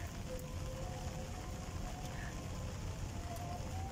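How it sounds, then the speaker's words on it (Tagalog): Rain falls steadily at Haw Par Villa, an outdoor park, making a continuous soft hiss of drops on surfaces at moderate level throughout, with no clear voices. "Ay, inulan na kami."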